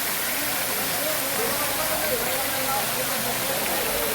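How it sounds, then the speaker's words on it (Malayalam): A steady, loud rush of falling water splashing continuously at a waterfall near Chimmini, with voices faintly audible beneath the roar. "ഇതേ നോക്കി ആ വെള്ളം വീഴുന്ന സ്റ്റൈലുണ്ടല്ലോ ഭയങ്കര രസമാണ്"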